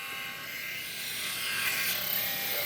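Philips Norelco 5000 series wet/dry electric shaver running in a steady, close buzzing hum that grows slightly louder toward the end, with no talking.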